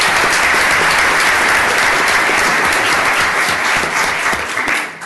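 Loud, sustained applause at a commissioners court meeting honouring employees who earned law and master's degrees; a thick, even roar of many people clapping that eases slightly near the end.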